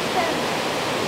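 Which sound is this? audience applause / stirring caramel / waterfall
waterfall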